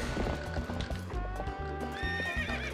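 Epona, the horse in Zelda: Twilight Princess, lets out a close, loud whinny over rhythmic clip-clop hoofbeats that keep going steadily throughout, with music underneath.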